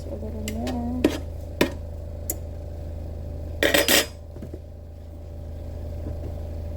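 A spoon clinks and scrapes against a metal pot while stirring a pastitsio mixture, with a few sharp taps and a brief rattling burst over a steady low kitchen hum.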